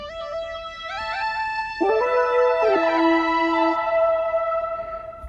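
Several synthesizer leads play together in bright, stepped melodic lines, layered over one another with a soft hum underneath and no voices.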